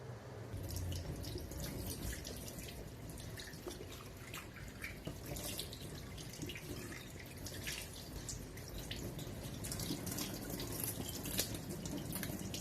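Tap water runs steadily over a large whole tilapia being rinsed in a kitchen sink, a continuous close splashing and trickling with small drips, no talking.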